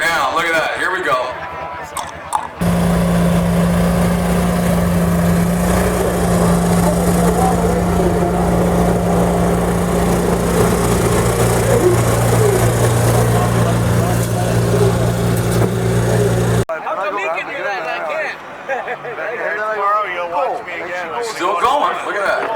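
A mud bogging truck engine drones loud and steady as it pushes through deep mud, with a constant low roar that holds for long stretches under excited commentary.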